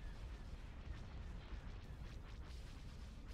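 Starship weapons open fire in an opening salvo in the space strategy game Thrawn's Revenge, a dense, continuous rumble of booms and bursts layered without pause, sounding distant and faint.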